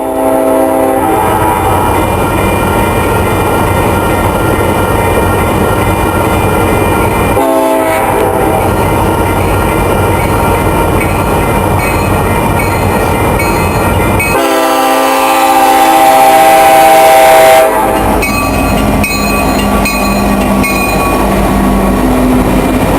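Three SD70 diesel locomotives running light rumble past at close range in Rosemead, with a loud engine drone, blasting horn and rattling wheels, continuous throughout.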